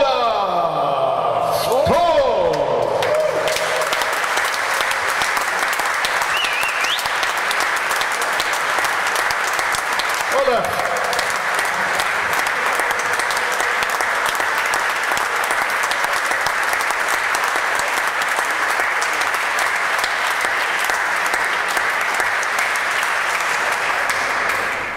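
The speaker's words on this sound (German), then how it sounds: "Wir messen nämlich die Zeit für den Applaus" Sustained audience applause greets former Schalke 04 footballer Olaf Thon as he comes on stage at an evening event, steady and dense clapping that fills the room for the full length, with a few brief voices and a knock near the start.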